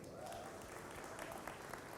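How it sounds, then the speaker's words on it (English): Applause from an audience at an HR leadership summit, faint and continuous for about two seconds with scattered sharper claps. "Give yourself a hand of applause."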